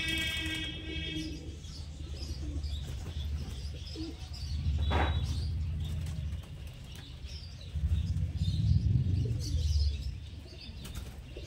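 Giribaj pigeons coo in low, throaty bursts close by, with wing flaps and a sharp chirp mixed into a busy background of distant birds.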